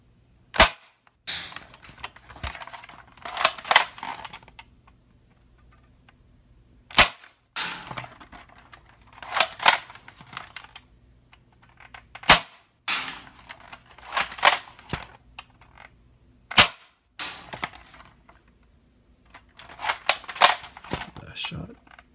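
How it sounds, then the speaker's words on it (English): A twin-spring modified Nerf Alphahawk blaster fires tipped foam darts in a series of sharp, loud snapping shots at irregular intervals, each followed by brief mechanical priming clatter, with a voice speaking between the shots. "I'll do the next test with Stefan darts"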